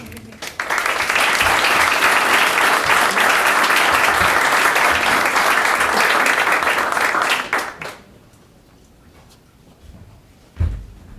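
After a building blessing at a ribbon cutting ceremony, a crowd applauds with steady, full clapping for about seven seconds, then it drops away, leaving a quiet room with a couple of faint thumps.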